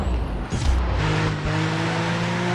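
Cars rush past in the Driver video game, a steady engine drone with a passing whoosh and rising tonal hum as a vehicle approaches from the opposite direction, loud and close with no talk.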